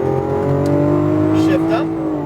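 Lamborghini Aventador powering out of a corner on a racetrack, a loud steady engine roar building in pitch, with an instructor's voice talking over it.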